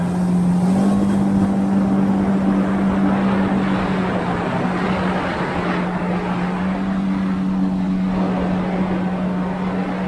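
Kawasaki Ultra 160 LX-S jet ski fitted with a 16/21 impeller, running steadily at cruising speed in medium power mode, a loud continuous engine drone with a rushing water wash that holds nearly constant throughout.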